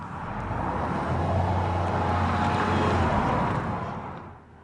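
A Porsche driving along a country road about 10 kilometers outside Sherman, its engine a steady broadband drone with low rumble that holds level for several seconds, then fades slightly near the end; no talk.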